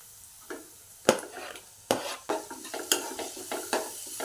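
Chopped onion and tomato fry in a pan for a vegetable kurma while a spoon stirs them, giving repeated sharp scraping strokes about every half second over a soft sizzle, close and fairly loud, with no voices.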